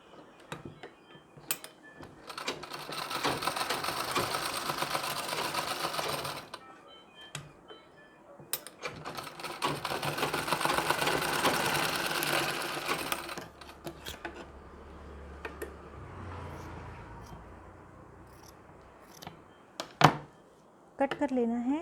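A sewing machine stitches a one-year-old baby's blouse made from a Nauvari sari, its steady close mechanical whirring running in two long stretches, with quieter ticking and softer handling sounds in between.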